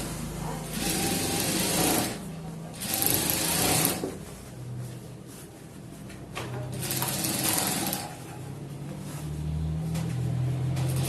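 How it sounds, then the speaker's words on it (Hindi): A sewing machine stitching a shirt runs in short whirring bursts of about two seconds, close up, stopping and starting several times with quiet pauses between runs. "ये देखिए, अब जो इसको इस तरीके से सिलाई करते हैं बैठाकर"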